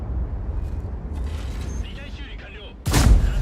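A heavy tank cannon in a tank video game fires a single loud, booming shot near the end, following a stretch of low engine rumble and murmuring voices.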